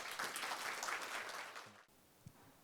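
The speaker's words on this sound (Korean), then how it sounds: "박수로 한번 환영 부탁드리겠습니다" A seminar audience at a social value conference session applauds to welcome a city official, with a short burst of clapping that cuts off abruptly, followed by a quiet room and a faint knock.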